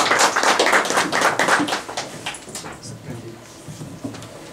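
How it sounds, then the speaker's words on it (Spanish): An audience at an academic talk on rural-to-urban transformation in Tonalá claps for a speaker; a burst of applause is strong at first and then thins into scattered claps, with some voices underneath. "damos la más cordial bienvenida y el aplauso"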